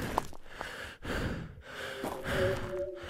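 A character pants in a horror video game, quiet repeated breathy gasps and sighs in an uneven rhythm, with faint game tones in the background.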